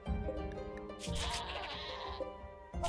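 A goat in the colony sim RimWorld bleats in a loud, wavering cry lasting a couple of seconds, with a shorter bleat breaking in at the end, alone with no talk.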